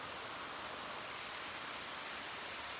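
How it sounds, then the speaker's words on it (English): Hard, fast rain shower falling on a Dartmoor roadside in Devon, heard from under a bit of cover: a dense, even hiss of raindrops pattering on surfaces, soft but unbroken, with no voices. "Well, the rain had to come eventually."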